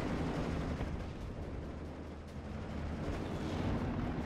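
Gunfire and artillery rumble in the World War II strategy game Steel Division Normandy 44, a dense continuous barrage of booms and shots, heavy low-end roar throughout, no voices.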